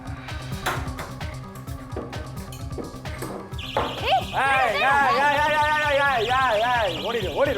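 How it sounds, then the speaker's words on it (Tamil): A magnetic-sensor anti-theft door alarm sounds midway, a loud warbling, rising and falling electronic siren that holds steady to the end over earlier busy background music. "இந்த மாதிரி அலாரம் சவுண்ட் கேட்டுச்சுன்னா அப்போ ஏதோ தப்பு நடக்குதுன்னு தெரிஞ்சிடும்"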